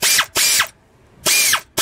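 A ratchet wrench loosens a bolt on the power steering pump of a 1996 Toyota Corolla. Three loud, close bursts of fast clicking are separated by short pauses.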